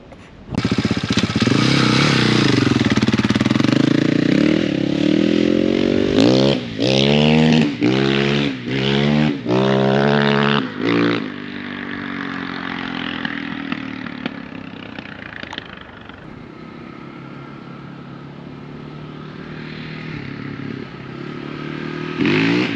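A nearly 21-year-old KTM motorcycle engine rides off, revving hard through rising and falling gear changes close up, then fades to a quieter, steady running drone.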